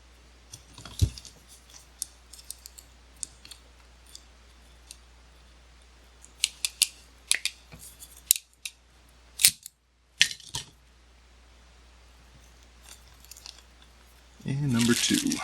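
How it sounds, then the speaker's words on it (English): Wires are crimped onto connectors while an old digital bench AC power meter is repaired, giving scattered close snips and metallic clicks over a quiet hum, with a louder rustle at the end. "So I'll just crimp the wires into these guys, and then I'll be able to tighten it down."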